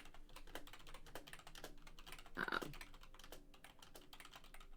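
Close, rapid typing on a computer keyboard: irregular clusters of crisp keystrokes with a brief denser burst in the middle, and no voices.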